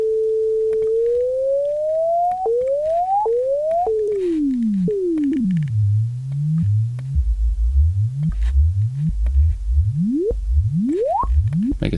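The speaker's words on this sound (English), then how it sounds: "Now let's make this sine wave sweep." A synthesized sine wave sweeping through a clipper effect in a studio session: a loud, continuous pure tone that glides repeatedly in rising ramps, first high then dropping low, with buzzy low harmonics, no talking.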